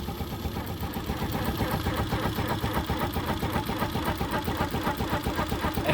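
A TMX125 Alpha motorcycle engine with an abnormal whine runs with a rapid, steady mechanical ticking and a rough whine on top, loud and close, with no talking.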